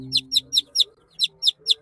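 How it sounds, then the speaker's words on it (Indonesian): A chick peeps in quick, high-pitched chirps, seven bright calls in an even rhythm, close and clear. "yang ini anaknya ayam"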